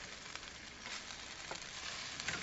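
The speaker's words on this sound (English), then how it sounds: "I'm going to saute that for about 3 minutes" Vegetables with fresh ground black pepper sauté in a pan, making a soft, steady sizzle with faint stirring scrapes throughout.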